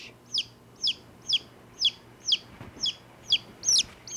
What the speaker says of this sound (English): They're a breed of chicken called the white-crested Polish.